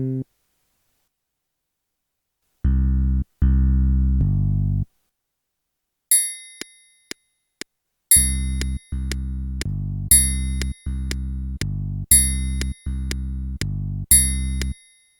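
A bass line added to a fill-in pattern on a KORG arranger keyboard: short repeated bass notes in a steady rhythm, joined partway through by bright percussive ticks and chiming tones, with no voices.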